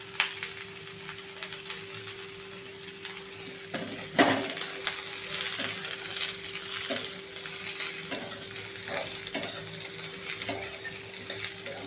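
Chopped onion, ginger and garlic fry in a kadhai for a matar paneer masala paste, a steady close sizzle broken by repeated spatula scrapes and stirring knocks, with a faint constant hum underneath.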